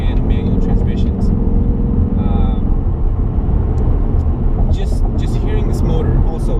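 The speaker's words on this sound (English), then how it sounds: "Just hearing this motor." A 2018 Ford Mustang GT with manual transmission and a louder factory exhaust rumbles with a deep, steady, loud engine drone throughout, with some brief higher tones and clicks above it.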